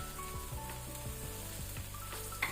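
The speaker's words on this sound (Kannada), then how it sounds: "ಇದನ್ನು ಸಹ ನಾವೀಗ ಒಳ್ಳೆ ರೀತಿ ಫ್ರೈ ಮಾಡ್ಕೊಳ್ಳುವ, ಹಸಿ ವಾಸನೆ ಹೋಗೋ ತನಕ, ರಾ ಸ್ಮೆಲ್" Ginger garlic paste frying with onions and green chilli in a pan, a close, continuous sizzle and crackle, with a few soft stirring clicks and one brief sharper pop near the end.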